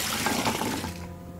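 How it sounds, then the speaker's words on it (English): Rushing water flows after a valve is placed in the League of Light video game, a full gushing splash that gradually tapers off toward the end. "Oh, yeah, Marigolorum has really cool water effects."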